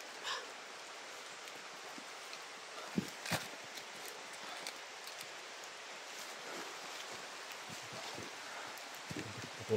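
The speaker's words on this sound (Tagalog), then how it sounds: "malakas ang ulan" Steady, dense rain hissing down in a continuous wash, with a few brief knocks and rustles breaking through the downpour.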